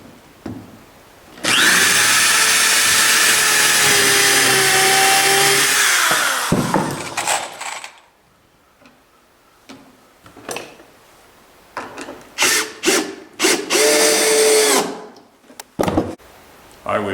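A power drill drives screws to fix a clamp onto the rub rail of a wooden skiff. A long loud whine runs for several seconds, followed by a string of shorter close bursts with quiet gaps, and no talking.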